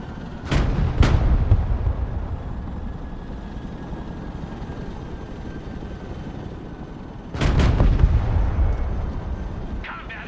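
A tank cannon fires kinetic rounds in the video game Broken Arrow: two loud booming shots close together, a long rumbling tail, then another heavy blast with rolling echo.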